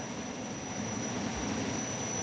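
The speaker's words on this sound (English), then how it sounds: "That's a fighter Where? jet. That's a jet." Fighter jet flying overhead, a steady broad roar with a faint high whine, fairly distant and unbroken, no voices.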